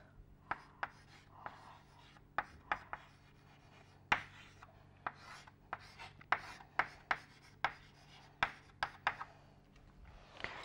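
Hand writing equations, likely on paper, heard as faint close scratching strokes and sharp little taps in an irregular rhythm, with soft rubbing between them and no clear talking.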